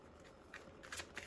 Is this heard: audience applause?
no